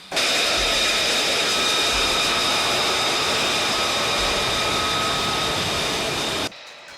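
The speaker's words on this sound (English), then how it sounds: "Once the engine is running, the F-35 begins taxiing toward the runway at controlled speed" A loud, steady F-35 fighter jet engine roar with a high whine running throughout, cutting off abruptly near the end.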